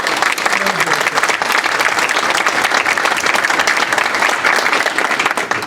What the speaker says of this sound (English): I think we just ought to give him a round of applause